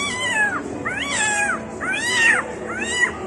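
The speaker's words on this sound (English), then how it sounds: "And the cats. Yeah. Jesus, that's like the crazy cats, huh?" Several cats meow in a run of four drawn-out, rising-and-falling wails, fairly close and loud, in a neighborhood in Johannesburg, South Africa, with no talking over them.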